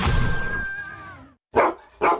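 A dog barks in a dog-training radio ad, two short close barks after a fading tonal sting, loud and clear with no talking.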